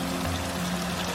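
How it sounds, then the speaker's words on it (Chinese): Sauce and then water are poured into a cooking pot, making a brief, steady splashing pour heard up close and alone. "引入我们调好的料汁， 加入适量清水"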